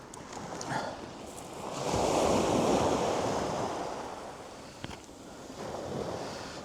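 Sea waves washing onto the shore at Bexhill, a broad rushing surge that swells and fades with wind noise buffeting the microphone, and a faint knock partway through.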